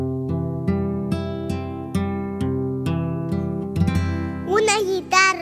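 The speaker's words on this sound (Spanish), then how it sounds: "es una guitarra!" A guitar strums a steady series of chords in an even rhythm, ringing clearly, with a brief burst of a different sound near the end.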